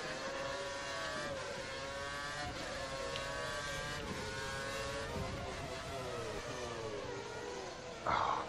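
Formula 1 engines scream steadily in the F1 2013 game at the Bahrain Grand Prix, a close, continuous high whine with rising and falling gear shifts, and a louder burst near the end.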